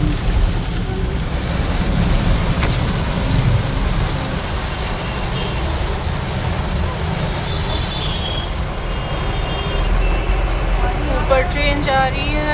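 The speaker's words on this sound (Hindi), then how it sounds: "देखो देखो इधर बारिश का पानी।" Heavy rain falls in a constant dense hiss that fills the whole stretch, with a low rumble of movement underneath and a faint chirping near the end.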